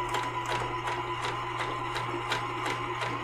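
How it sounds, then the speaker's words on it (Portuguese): A sewing machine running a straight stitch on felt, a steady close mechanical hum with regular rapid needle knocks throughout, no talking. "aqui nós vamos utilizar a máquina, fazer um pontinho, tá? Da máquina, o ponto reto."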